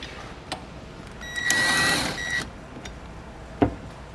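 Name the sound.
driver with 5mm hex bit tightening bolts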